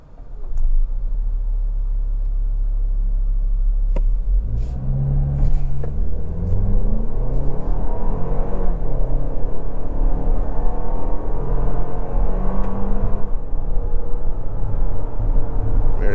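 A 2024 Toyota Grand Highlander Platinum with a 2.4-liter turbo four-cylinder idles with a low rumble, then accelerates hard, its engine droning and rising through the gears, heard close from the cabin.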